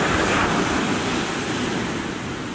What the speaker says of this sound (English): nothing can beat the beauty of the black sand beach